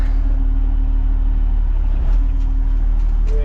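Rotor machine engine starting up outdoors over grass, a steady low rumble with a droning hum that holds throughout, loud and close.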